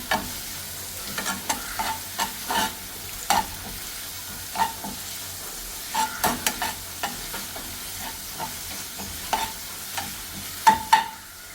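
Onions frying in hot oil with ginger-garlic paste for an onion curry, a low continuous sizzle punctuated by a series of clattering spoon strokes in irregular bursts.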